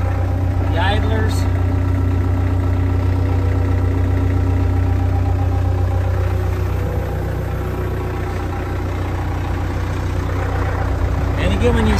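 Caterpillar E70B excavator engine idling, a steady low mechanical drone held constant throughout, with someone talking over it.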